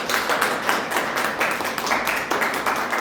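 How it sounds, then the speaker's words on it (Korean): A church congregation claps to welcome a deaconess, a brisk, dense round of hand claps close by, rising and falling in waves for a few seconds. "우리 권사님 박수로 환영하시겠습니다"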